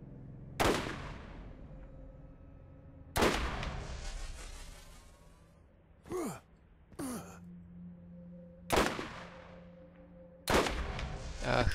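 Sniper rifle shots in the video game Borderlands: four sharp, loud cracks spaced a few seconds apart, each with a long ringing tail, and a couple of brief whooshing sounds in between.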